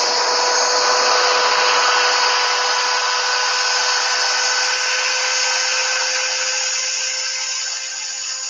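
Wood spinning on a lathe is sanded with finer-grit paper, around 320, giving a continuous close abrasive hiss over a steady tonal motor hum that eases slightly at the end.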